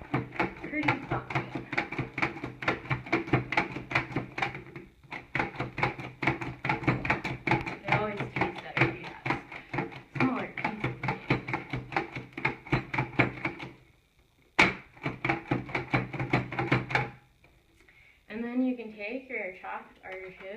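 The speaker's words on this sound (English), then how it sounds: "I want to chop them pretty fine." A knife chops artichoke hearts finely on a board in a rapid, steady rhythm of close, crisp taps, pausing briefly twice, ending with a short voice.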